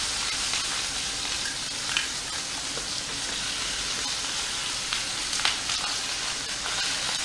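A wagyu cheese-filled hamburger steak pan-fries, giving a steady, even sizzle and hiss close up, with a few faint clicks of a utensil and no talk.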